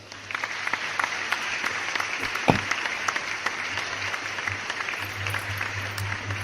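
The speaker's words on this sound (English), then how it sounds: "an applause for everybody here that donates" Applause from viewers of a live New Year's Q&A stream, a steady wash of clapping at moderate level that runs throughout, with one sharper clap near the middle.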